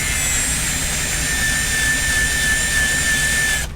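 A car polisher buffs clear coat paint while removing silicone RTV, giving a loud, steady high-pitched whine that holds constant throughout with no talking.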